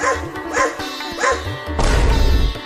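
A dog barks and yips in short bursts amid a busy, layered cartoon-style soundtrack, ending in a louder rumbling crash.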